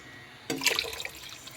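Water being poured into a pressure cooker holding goat trotters for paya: a sudden splashing pour starts partway through, then settles into a softer trickle, close and moderately loud.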